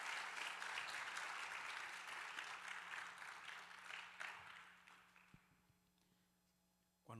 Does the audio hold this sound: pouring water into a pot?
no